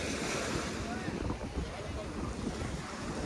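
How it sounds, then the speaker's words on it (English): Ocean waves surge and wash onto the beach at Avon by the Sea on a rising tide, a steady loud broadband roar of surf mixed with wind buffeting the microphone. "And you see, how the waves are like"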